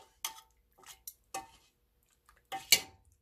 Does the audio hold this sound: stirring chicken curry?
yes